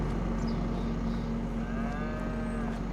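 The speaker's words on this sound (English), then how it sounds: "Hello, moo cows." Holstein cows mooing on a farm in the video game Farming Simulator 25, a few low drawn-out moos over a constant droning background, with no talking.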